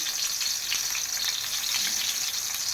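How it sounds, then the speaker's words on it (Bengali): Steady, close sizzling and crackling of spiced eggplant slices frying in hot oil in a pan, continuous throughout with no voices. "বেগুনের মধ্যে মশলা মাখায় রাখছি এখন ভাজতেছি"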